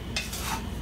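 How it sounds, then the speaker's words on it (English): Sugar being stirred in a pan on a burner at medium-high heat for caramel: a soft scrape of a utensil against the pan over a steady low sizzle, with one brighter clink partway through. "Stirring occasionally until the sugar turns brown."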